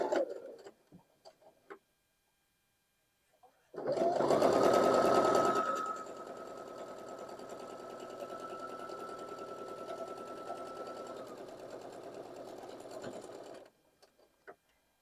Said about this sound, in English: sew them together at a 1/4 inch seam